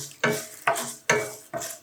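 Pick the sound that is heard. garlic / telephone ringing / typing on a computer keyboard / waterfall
garlic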